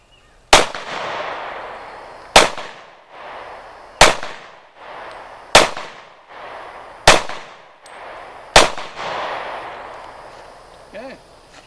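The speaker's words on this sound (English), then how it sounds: "I'll go in and plink some rounds down target." Six loud, sharp gunshots from an IMI Desert Eagle .44 Magnum pistol, fired at a steady pace about 1.5 seconds apart on a range, each crack ringing out with a brief echoing tail.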